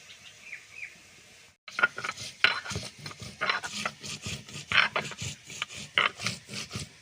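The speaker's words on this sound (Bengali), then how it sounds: "গোটা জিরে আর আদাটা একসঙ্গে করে বেটে নেব।" Whole cumin and ginger crushed together on a grinding stone, a fast run of scraping, knocking strokes in an irregular rhythm, close and fairly loud, after a short stretch of quieter background.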